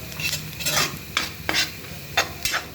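Masala for malai onion sabzi is stirred over a low gas flame, a soft sizzle under repeated spoon scrapes against the pan, several distinct strokes at uneven intervals.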